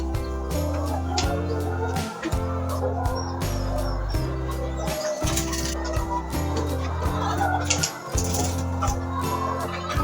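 Chickens cluck and fuss inside a poultry farm chicken house as charcoal is about to be given to them, a busy, near flock chorus over a droning background for about ten seconds.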